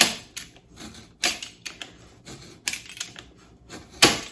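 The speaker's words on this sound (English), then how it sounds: "I'm just going to put it right over the line, and I'm just going to score it a couple of times." Sharp, scratchy strokes of a blade scoring a line on a thrift store picture frame, coming in several separate bursts with short pauses between them. Close and fairly crisp, with no talking.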